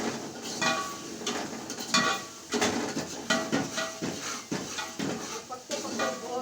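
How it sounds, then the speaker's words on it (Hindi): Dishes, pots and pans are washed in a home kitchen while kadhi pakora cooks, giving a run of close, irregular clanks and clatters of metal and crockery over running water, with faint background sounds between. "साथ में बर्तन धो लूँगी"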